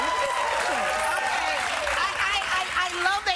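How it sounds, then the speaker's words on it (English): A studio audience on a daytime talk show claps steadily and loudly throughout, a dense wash of applause with a voice talking over it. "You all are clapping right now"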